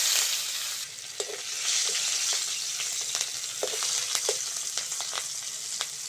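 Nigella seeds and green chili tempering in hot oil in a pan, a steady close sizzle with scattered sharp crackles and pops and occasional stirring, no voices.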